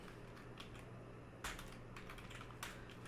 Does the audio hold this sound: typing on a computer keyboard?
yes